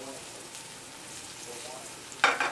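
Mushrooms frying in a pan for chicken Marengo, a soft steady sizzle throughout, ending with a sudden louder burst of crackling near the close.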